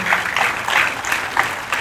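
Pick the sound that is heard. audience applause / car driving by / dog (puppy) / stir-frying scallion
audience applause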